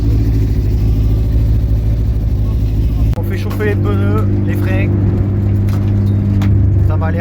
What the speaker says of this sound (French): On fait chauffer les pneus, les freins.